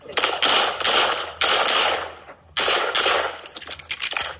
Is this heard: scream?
no